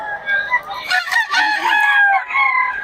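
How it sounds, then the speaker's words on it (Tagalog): Several roosters crow over one another nearby, their calls overlapping in a busy, continuous chorus with no talking. "Daming manok dito ngayon mga idol."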